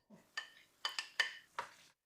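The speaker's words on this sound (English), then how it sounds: "Now I'm adding the olives to the sauce" Olives are dropped into puttanesca sauce in a pan, giving five or six light, quick clinks and taps in an irregular sequence, close and fairly quiet, with no talk.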